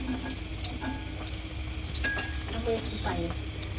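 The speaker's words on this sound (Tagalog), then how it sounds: "magsosote tayo ng garlic para sa ating sauce" Garlic sautéing in a pan for a tofu sauce gives a steady, close sizzle, with a few light clinks of a utensil stirring through it.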